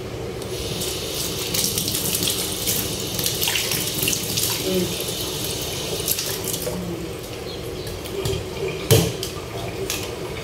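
Water runs from a tap into a kitchen sink in a continuous splashing stream, close and fairly loud for the full length, with a few brief knocks and clatters of handling over it.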